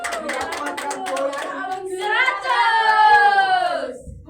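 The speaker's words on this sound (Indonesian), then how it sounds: "Tepuk tangan untuk kelompok Nyala." A fourth-grade class claps for a classmate group in a school lesson: a burst of quick, rattling hand claps in the first half, then a teacher's voice carries over the fading applause.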